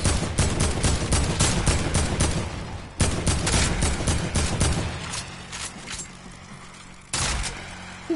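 Sustained rapid gunfire and explosive blasts in Fortnite, a dense stream of loud shots that breaks off briefly, thins out, then returns as a final sharp burst.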